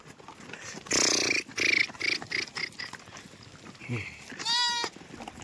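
A herder imitates a sheep's bleat in several wavering calls, followed by a real-sounding bleat near the end, with outdoor background noise on a stony path.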